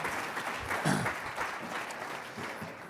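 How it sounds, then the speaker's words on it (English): Soft, continuous applause from an audience at a community conversation on mental health with Patrick J. Kennedy, a quiet, even patter of many hands heard from a distance. "let's give another round of applause to Shelley"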